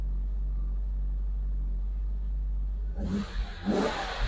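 A 1991 BMW M5 E34 engine sits at a low, steady idle rumble for about three seconds, then short blips of throttle bring quick, rising revs that fall back down.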